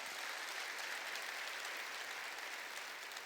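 A church congregation bursts into steady, dense applause during a sermon, a continuous wash of many hands clapping at moderate distance with no talking over it.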